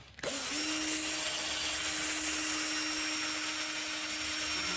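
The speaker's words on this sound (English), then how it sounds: "So I'll drill a mounting hole in here." A power drill bores a mounting hole in the metal frame of an electric mini bike, starting abruptly and then holding a steady, close, high-pitched whine for several seconds.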